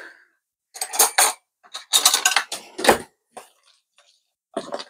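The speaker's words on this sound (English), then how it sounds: "I usually just mix by hand" A spoon or whisk scrapes and clinks against a bowl as brownie batter made with one egg and no oil is stirred by hand, in short close bursts of clattering separated by quiet gaps.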